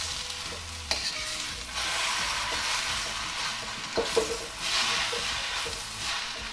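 Vegetables, spring onions and beef for Hong Kong restaurant-style chow mein sizzle loudly in a hot pan, with repeated scraping and tossing strokes breaking through the steady frying hiss, close and without speech.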